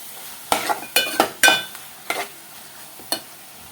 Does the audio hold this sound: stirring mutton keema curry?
yes